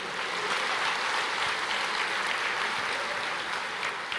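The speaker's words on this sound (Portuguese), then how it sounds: "pode aplaudir, aplauda o Senhor" Congregation applauding during a church service, a steady, loud wash of many hands clapping with no voices standing out.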